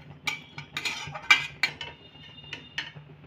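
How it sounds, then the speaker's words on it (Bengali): Cashews and other nuts stirred in hot ghee in a pan, heard as a string of scattered metallic clinks and scrapes from the spoon against the pan over a faint, low background, with no voices. "এবার বাদাম আর কাজুগুলো দিলাম। একটু ভেজে নেব।"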